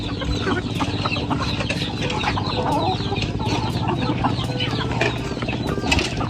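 Flock of chickens at a fishpond clucking steadily and densely while being fed, many birds close by, the busy cackling continuous throughout with occasional sharper calls and a little wing flutter.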